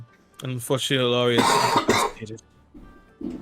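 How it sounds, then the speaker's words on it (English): A person coughing harshly several times in a quick burst, close and loud, mixed in with someone speaking. "you should really see someone about that cough"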